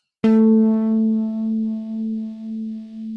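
A single sustained guitar tone from the EGFX effects dataset rings out with a sharp attack, then holds a bright harmonic-rich note that swells and dips in a slow, wavering modulation for about three seconds.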